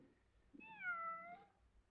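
A house cat named Samantha, shut in somewhere, lets out a single clear drawn-out meow at middling distance in an otherwise quiet room.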